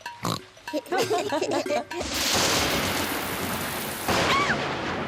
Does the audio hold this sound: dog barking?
no